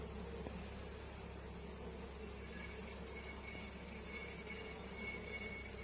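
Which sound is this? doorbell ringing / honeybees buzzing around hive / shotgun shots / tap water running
honeybees buzzing around hive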